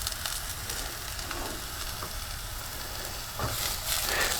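Food sizzles and fries steadily in a hot sauté pan as pieces caramelize, with a continuous close crackle and brief stirring or flipping scrapes near the end, no talk.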